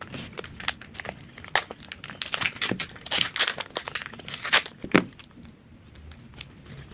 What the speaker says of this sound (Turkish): Yani bu tatlı kutuyu açacağız.